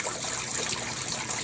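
Clorox bleach poured from a bottle into a container, a steady soft trickling and gurgling of liquid, close and uninterrupted.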